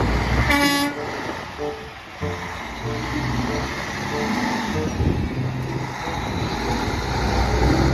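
A toy trailer truck's horn gives a short bright toot near the start, followed by toy clatter and handling noise with a voice talking.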